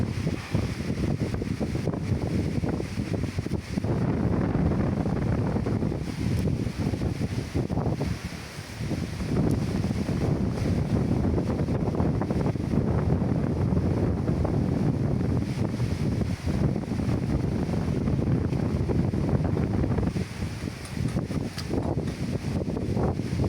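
Strong wind roars continuously into the microphone at an outdoor fiberglass boat-molding work site, a dense, steady buffeting that barely dips, with no voices.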